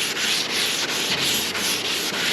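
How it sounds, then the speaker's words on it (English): A large-grit sanding block rubs over a car headlight in even strokes, a loud continuous abrasive scratching with a faint back-and-forth rhythm, heard alone. "Now when you're sanding with the large grit block,"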